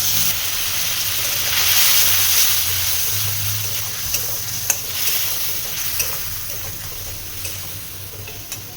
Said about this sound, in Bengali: মশলাটা কষছে